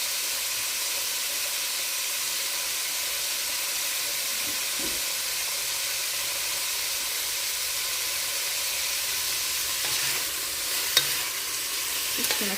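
Meat browning in a crowded pot for green chili, a steady broadband sizzle and hiss running throughout with occasional faint stirring scrapes, one slightly sharper clink near the end.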